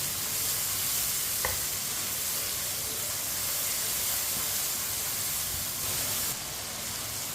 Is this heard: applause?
no